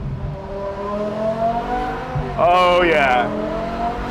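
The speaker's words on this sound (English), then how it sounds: "a German V10, naturally aspirated, the way it should be" A naturally aspirated German V10 car engine idles at a Cars and Coffee meet, then revs sharply and rises in pitch for a moment before settling back, with someone speaking over it.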